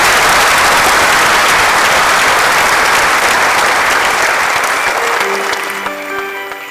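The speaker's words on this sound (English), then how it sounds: "Shall we do a big round of applause for her?" A large audience at a university honors ceremony breaks into a loud, sustained round of applause that begins to thin and fade near the end, leaving a few sustained tones ringing out.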